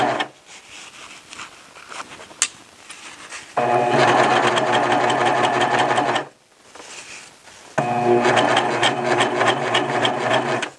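A serger overlocks the seams of a T-shirt, its fast, dense mechanical whir running in two long bursts separated by brief pauses with quieter handling noise.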